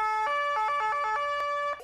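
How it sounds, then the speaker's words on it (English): Austrian police siren sounding close and loud, a sustained two-tone wail that switches pitch in quick, rhythmic bursts, heard alone. "That's the sound of the police."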